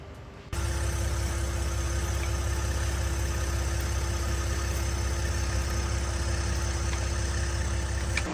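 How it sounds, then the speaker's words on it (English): A brand new 2024 Ford F-150 truck engine idles with a steady low drone, close and constant, after a short quiet start; a faint tinging is not clearly picked out. "there's a strange tinging noise coming from somewhere in the engine or transmission"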